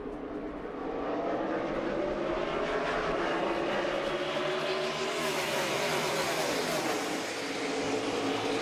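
NASCAR Cup cars at Pocono Raceway roar toward the restart zone in the 2017 Pocono 400, a dense pack of engines swelling from a lower rumble into a loud, continuous high-pitched scream as they accelerate past.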